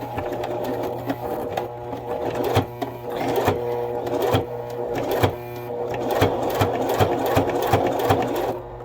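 A sewing machine stitches suede with a steady, fast mechanical whir and rhythmic needle clatter, close and loud, slowing and restarting a few times, no talk.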